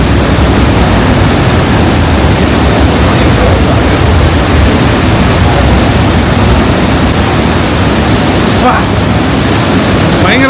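Niagara Falls in Canada roaring, a massive, unbroken wall of crashing water heard up close, loud and steady throughout.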